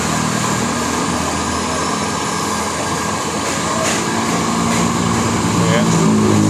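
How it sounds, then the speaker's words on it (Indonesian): A stone cutting machine runs while slicing kalimaya stone from Banten, giving a loud, continuous whine and grind that stays steady throughout at close range. "Mesin udah nyala nih, kita masuk sesi pemotongan"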